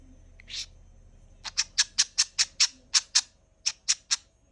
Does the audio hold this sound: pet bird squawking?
yes